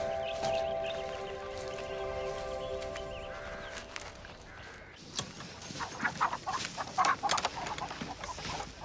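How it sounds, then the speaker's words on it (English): Chickens cluck and chatter nearby in a series of short irregular calls, preceded by a steady tonal hum and faint background noise. "Chickens have been laying real good since you got here."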